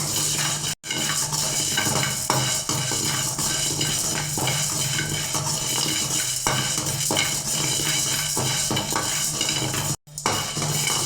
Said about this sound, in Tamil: இப்போ கடலைப்பருப்பையும் உளுத்தம்பருப்பையும் நம்ம நல்லா வறுத்து எடுத்துடலாங்க.